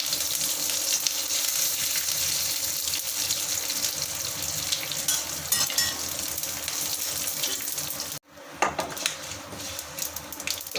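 Urad dal and cumin frying in hot oil for bottle gourd chutney, a steady close sizzle with hiss that cuts out briefly near the end and then resumes with crackles.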